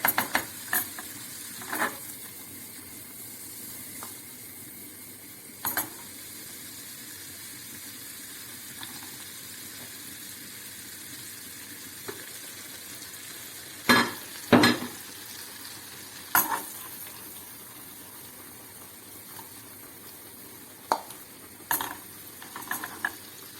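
Garlic frying in butter in a pan for a bean dish, a soft steady sizzle close by, broken by occasional clinks and scrapes of a utensil against the pan.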